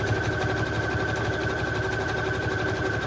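A sewing machine running a continuous zigzag stitch through a paper shaker box, a steady close-up mechanical whir with fast, even needle pulses throughout.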